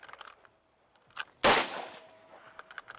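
A single loud handgun shot fired during a fast draw at clay disks thrown in mid-air, a sharp crack with a decaying echo, set among faint background sounds.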